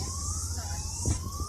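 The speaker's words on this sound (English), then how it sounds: "the siren is going off for a third time now" A warning siren wails across the inner Bay of Islands harbour, its rising and falling tone steady and moderately distant, with no voices over it.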